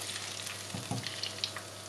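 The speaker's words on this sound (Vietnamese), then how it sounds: "Tiếp tục chiên cũng cho bột khi dầu nóng" Pork ribs fry in hot oil with a steady, moderate sizzle and crackle, broken by a few brief bumps and clinks of stirring close by.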